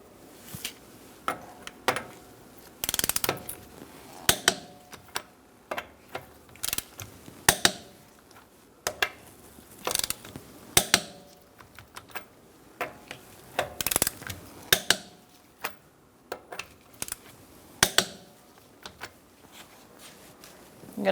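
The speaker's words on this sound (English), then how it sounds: "Using a 19mm socket, we're going to torque our wheels to 100 foot-pounds." A torque wrench on a 19mm socket tightens the wheel nuts of a 2012-2018 Ford Focus, its ratchet ticking and clicking in repeated sharp bursts, close up and with no talk.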